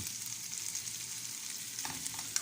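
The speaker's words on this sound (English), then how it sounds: "I'm not going to cook this bacon to death." Bacon fries lightly in a pan for carnivore-style spaghetti carbonara, a faint continuous sizzling hiss with a small crackle near the end and no speech.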